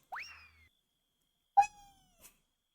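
A cat in a video game gives two clear, separate meows, the first rising and the second shorter and sliding down, with a small click after and silence in between.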